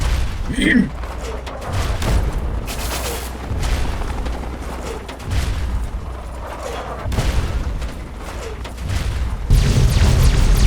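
Rocket explosions and gunfire in the video game Fallout 3, with repeated heavy booms and crackling blasts in a rolling battle din; people talk over it.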